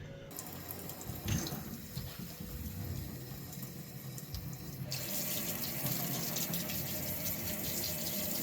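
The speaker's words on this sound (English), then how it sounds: "we're going to rinse this all off with water" Water runs steadily from a kitchen tap while a steak is rinsed under it, a loud continuous splashing gush that shifts in tone as the meat moves through the stream, heard alone without talk.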